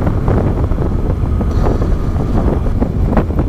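A 2000 Yamaha XJ900 motorcycle rides along with heavy, constant wind buffeting the microphone, and the engine is buried in a loud, steady roar of rushing air.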